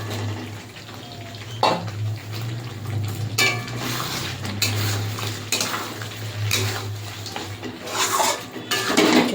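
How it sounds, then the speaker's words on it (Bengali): Fried cauliflower added to a pan of spiced masala for cauliflower rezala and stirred, with scraping spoon strokes, clinks against the pan and a low sizzle, steady and close, no talking. "এবার ভেজে রাখা ফুলকপিটা আমি দিয়ে দেব।"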